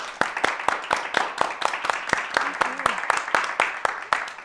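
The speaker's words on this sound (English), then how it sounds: "Let's give them one more round of applause." Audience clapping for panelists at a library event, a fairly sparse round of distinct claps repeating steadily over a few seconds, moderately close with a faint voice underneath.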